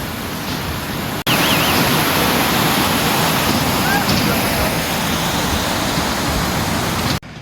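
A waterfall on the mountain trail to Hemkund Sahib roars as a loud, steady, broadband rush that fills the clip without a break, with a brief dip near the start.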